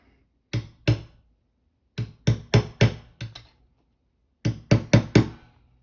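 A hammer striking the end of a thick screwdriver to set hardware into a sewn vest, heard as close, sharp metallic knocks: two blows, a run of four, then another quick run of four, with silence between.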